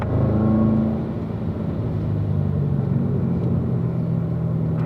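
A race car engine on the Spring Mountain track rumbles low and steady, easing off from a louder start to a lower, even drone as it slows.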